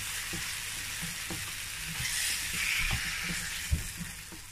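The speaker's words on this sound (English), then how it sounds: "I'm going to add my beef. I'm going to mix all that together." Beef being stirred into jollof rice frying in a pan, a steady close sizzle with scraping and clacking stir strokes throughout, one sharper knock near the end.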